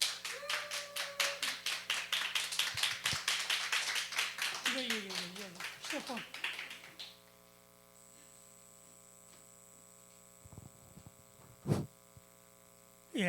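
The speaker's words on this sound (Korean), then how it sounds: "장로님 나오실 때 큰 박수 부탁드리겠습니다" An audience at a Bible study lecture claps in a steady, rhythmic beat for several seconds while a voice briefly cuts in, then the clapping stops and leaves a quiet room hum with a few faint knocks.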